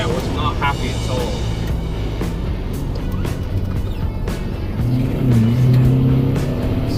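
A 1988 Volkswagen Vanagon GL with a 1.8T turbo engine accelerating from inside the van, a steady engine drone that swells louder near the end, with some voice and road noise mixed in.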